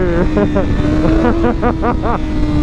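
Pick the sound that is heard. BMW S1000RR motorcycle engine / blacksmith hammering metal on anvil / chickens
BMW S1000RR motorcycle engine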